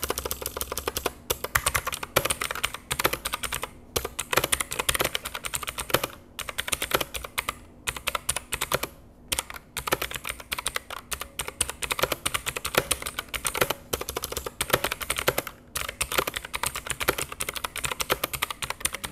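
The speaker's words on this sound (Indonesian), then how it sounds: "buat saya yang suka denger berisiknya suara keyboard, dengerin suara keyboard ini tuh jadi sebuah kesenangan tersendiri ya" Typing on a budget gaming keyboard with clicky blue switches, a dense, continuous clatter of sharp key clicks at a fast, steady pace, close and loud, with no voices.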